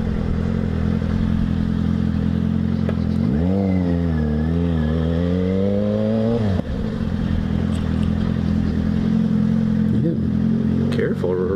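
A Yamaha FZ6R motorcycle engine drones steadily on a commute under constant wind rush, rising and falling in pitch as the rider changes speed, while someone talks over it.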